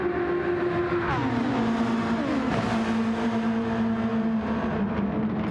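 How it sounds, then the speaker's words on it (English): F1 race cars in a racing video game at Monza, running nose-to-tail into Parabolica: a continuous, loud engine whine with several pitch drops and overlapping tones as the cars downshift and lift, with no talk. "It's Hamilton, Sainz and Ocon all towing each other along into Parabolica."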